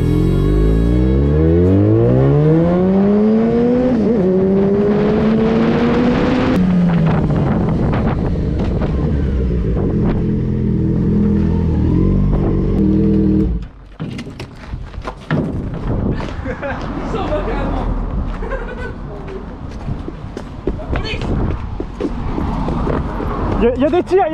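A Yamaha XJ6 motorcycle fitted with a Dominator exhaust revs hard and loud, pitch climbing and falling through several throttle blips, then drops to crackling pops and backfires with sharp bursts; wind buffets the microphone.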